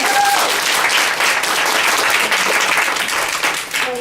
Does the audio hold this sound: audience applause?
yes